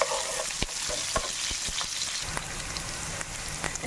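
Onion, ginger and green chillies fry and sizzle in a pan while a spoon stirs them, with repeated scraping clicks over a steady hiss; close and fairly loud, no talking.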